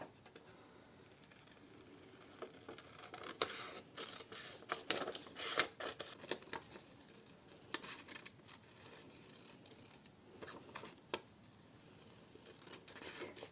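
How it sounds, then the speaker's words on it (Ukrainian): Scissors snip repeatedly through paper, cutting out hearts, in short irregular bursts, close and fairly quiet, with brief pauses between cuts. "Беремо ножиці і вирізаю ці сердечка."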